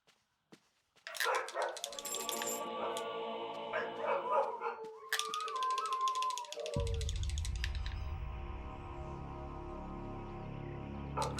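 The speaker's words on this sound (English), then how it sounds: "Oh my god, the dogs. Dogs are a sanity effect." Dogs bark and howl as a sanity effect in the horror video game Eternal Darkness, with yips and whimpers rising over a dense game soundscape and a deep rumbling drone in the second half.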